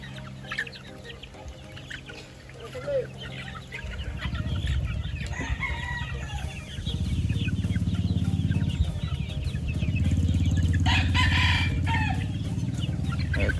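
Young gamefowl chickens, two to three months old, cluck and crow at a game farm, with several birds calling loudly and steadily over a continuous farmyard background.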